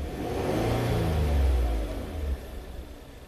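A Hyundai car engine hums with a low, smooth rumble, swelling in a brief rev before settling back to idle, close and steady with no talk.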